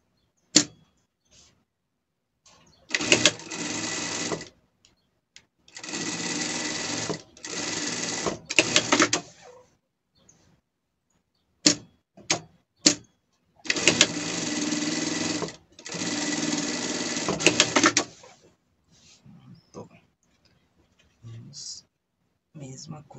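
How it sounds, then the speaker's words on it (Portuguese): A sewing machine stitches a strap onto a fabric pet carrier bag, sounding in several loud, steady whirring bursts of a few seconds each with short pauses and small clicks between them, close up, with quiet talk in the gaps. "A gente vai costurar ela desde aqui."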